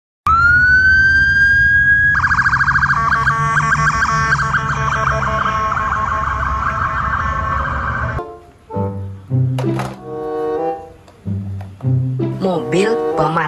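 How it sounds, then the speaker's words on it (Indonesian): A police car siren wails loudly and steadily in rising and falling tones, then stops and a voice speaks. "Mobil polisi."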